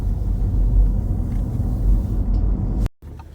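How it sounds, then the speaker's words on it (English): Interior ride noise of an electric car driving near Mont Belvedere in the Laurentian Mountains, a steady low road rumble and tire hum that cuts out abruptly near the end. "I was saying to Harvey, this is my first ride in an electric car, and the feel is just fabulous. The ride, the noise level"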